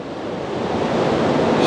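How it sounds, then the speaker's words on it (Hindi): Sewer water rushing through a tunnel beneath Paris, a dense, steady broadband roar that swells slightly louder toward the end. "मगर ये शहर के नाले का पानी आ रहा है"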